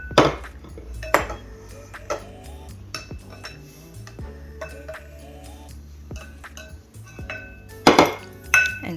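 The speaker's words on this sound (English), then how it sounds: "we're going to start off by mixing this rice powder and" Rice powder and sugar being mixed in a bowl, with repeated clinks, scrapes and taps of a utensil against the bowl, louder knocks near the start and end.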